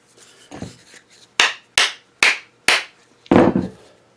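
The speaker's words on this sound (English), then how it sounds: "I might be able to just hammer that on" A few light taps, then five sharp, evenly spaced hammer blows ring out close and loud, each with a short metallic decay, as a handle is hammered onto a hammer head.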